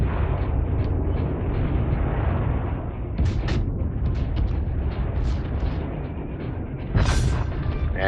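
Heavy battleship gunfire from a Tier 3 Wyoming-class battleship in World of Warships, a sustained deep rumbling roar with several booming salvos and a sharp whistling shell near the end, loud and close throughout.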